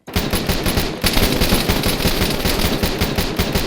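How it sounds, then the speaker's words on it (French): Continuous automatic gunfire in the military shooter Arma 3, loud and dense with rapid overlapping bursts and no break across the whole stretch, with no voices. "Je me prends des tirs."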